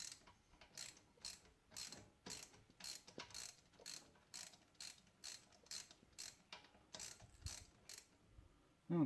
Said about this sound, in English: now that it's snugged, I'm just going to give it a quarter turn